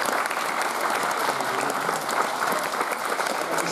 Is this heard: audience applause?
yes